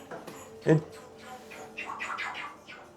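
A large pet bird calls in a home, giving a loud squawk burst followed by a series of shorter chirpy cries, with a person talking nearby.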